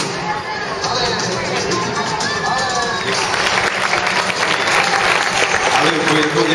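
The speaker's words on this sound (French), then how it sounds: "Allez, vous pouvez applaudir chaleureusement." An audience claps warmly at a dressage horse show, dense sustained applause swelling toward the end, with a voice speaking over it early on.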